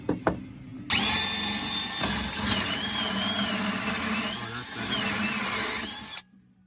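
A power drill bores steadily through material with a sharp bit during a diesel heater installation, a loud continuous whine with shifting pitch lasting about five seconds after a brief start, then stopping abruptly.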